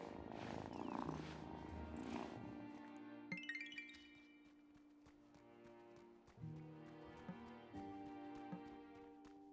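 A cat purrs in the farming video game Wylde Flowers, a low steady rumble set against layered background music and chiming effects, with no speech.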